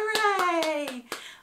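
Hands clap five times in a steady rhythm during a baby class welcome song, sharp and close, under a sung melodic line.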